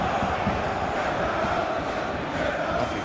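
Football stadium crowd at a Champions League match between Olympiacos and Real Madrid, a dense continuous roar of many voices with steady loudness and no clear peaks.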